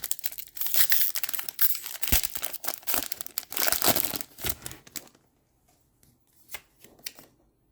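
A Pokemon trading card slides into a plastic sleeve: close, crisp crinkling and rustling of plastic in quick bursts, then a few softer rustles after a pause.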